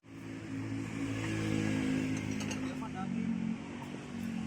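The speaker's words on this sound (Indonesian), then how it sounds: "suara knalpot di Bogor ini emang luar biasa banget, banyak banget motor-motor pakai knalpot brong" A loud motorcycle with an open aftermarket exhaust revs and drones steadily nearby, rising and holding with a rough exhaust growl before easing off.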